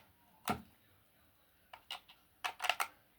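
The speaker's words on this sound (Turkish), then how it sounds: "Kalem pilleri yerleştiriyoruz." AA batteries pressed into the compartment of an automatic aquarium fish feeder, heard as one sharp plastic click followed by a flurry of small clicks and snaps, close and distinct in an otherwise quiet room.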